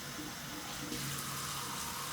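Hot water runs steadily from a tap into a container while pizza dough is being prepared, making a continuous close splashing hiss that brightens partway through.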